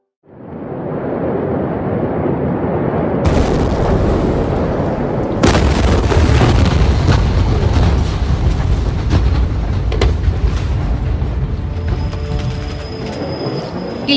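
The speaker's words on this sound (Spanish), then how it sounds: "una serie de explosiones en el puerto de Beirut, capital del Líbano, destruyó gran parte de la ciudad" Massive explosions at the port of Beirut, Lebanon: a sustained, loud roaring rumble with a sudden sharper blast partway through, followed by a continuing heavy boom and crackling debris noise.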